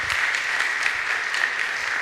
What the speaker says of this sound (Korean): 우리 박수로 한번 환영해 주시면 감사하겠습니다